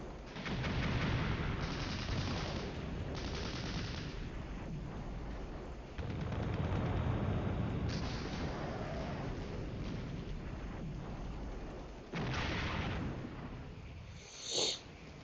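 Artillery fire in the tank game Full Control Steel Storm: a sustained low, rumbling roar of bombardment swelling in long heavy bursts, with brief lulls between barrages and a short sharp crack near the end.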